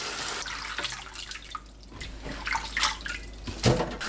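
Running tap water rinses sliced red cabbage in a kitchen sink, a steady splashing flow with small drips and clatters rising and falling, fairly close, with no talking.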